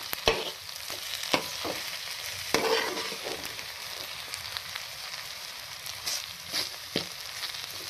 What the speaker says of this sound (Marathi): आता ती छानपैकी सगळ्या बाजूने 1 ते 2 मिनिटं छान फ्राय करून घ्यायची आहे